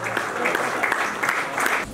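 Audience clapping in an assembly hall at a Jaycees installation ceremony, a moderate burst of many hands in irregular waves that fades out near the end.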